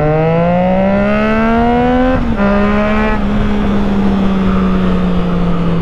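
A Triumph Trident 660 fitted with an aftermarket exhaust revs hard at night, a loud, close, steady engine drone whose pitch climbs, briefly dips, then holds high.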